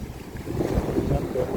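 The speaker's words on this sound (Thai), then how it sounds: "เสียงคลื่นก็อาจจะแรงนิดหนึ่ง" Sea waves wash onto Ban Chuen Beach in Thailand, a steady, fairly loud surge of surf with gusty wind buffeting the microphone throughout.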